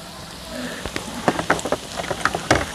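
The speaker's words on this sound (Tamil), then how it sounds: "வெங்காயம் கொஞ்சம் வதங்கிட்டு இருக்கு." Onions sizzling in a pan with turmeric and chili powder for an outdoor garden-style masala potato dish, a steady frying crackle with scattered sharp pops and spatters growing busier toward the end.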